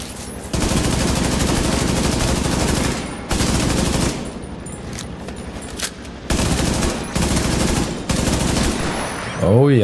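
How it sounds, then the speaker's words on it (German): Enemy gunfire in The Division 2, long sustained bursts of rapid automatic shots in several loud volleys separated by brief pauses, with a voice heard faintly near the end. "Oh ja, jetzt schießen die von dort."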